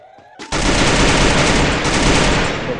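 Rapid automatic gunfire from the video game Garena Free Fire erupts abruptly after a short quiet moment and continues as a loud, dense, sustained burst.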